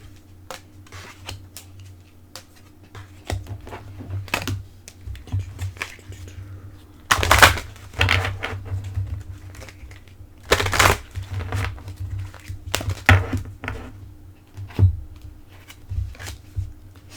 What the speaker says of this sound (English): I will pull a few Angel Oracle cards for you next